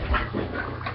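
A puppy named Kita whimpers and pants close by in a short, steady burst of breathy, whiny sounds with no talking.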